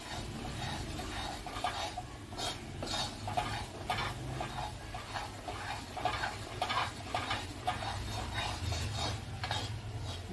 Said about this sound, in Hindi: बेसन भूनते समय उसको बराबर चलाते रहना है, नहीं तो हमारा बेसन जल सकता है।